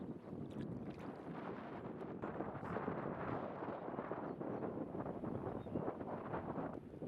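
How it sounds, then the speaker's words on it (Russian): Steady, loud wind roars across an open microphone on a river, with a low rumble, continuous and gusting throughout, with no voices. "Когда мы проплывали мимо урочища, поднялся сильный ветер."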